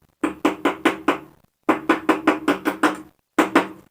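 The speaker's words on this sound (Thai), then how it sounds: "เคาะตรงสันนะครับเคาะตรงสัน" Sharp knocks from a hammer tapping along the folded seam of a sheet metal edge, close and loud, in three bursts of rapid evenly spaced blows: five, then eight, then one, with short pauses between.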